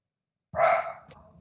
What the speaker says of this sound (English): You hear the dog downstairs.